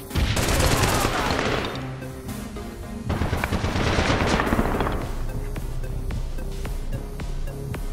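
Two bursts of dense, loud automatic gunfire erupt in an APB Reloaded street fight, each rattling for about two seconds before easing into scattered distant shots.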